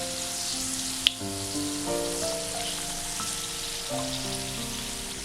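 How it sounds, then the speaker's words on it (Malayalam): Karanji, sweet Diwali dumplings, fry in hot oil with a steady, dense sizzle and crackle, close and continuous, over soft background music, with one sharp click early on. "ഇങ്ങനെ തിരിച്ച് മറിച്ച് വെച്ചിട്ടൊന്ന് ഫ്രൈ ചെയ്തെടുക്കാം."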